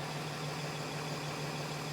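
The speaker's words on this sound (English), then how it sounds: "you're going to rev up your engine" A bus engine with the parking brake set and the gear in overdrive holds a steady, close, low drone with a constant hum for the whole stretch and no voices.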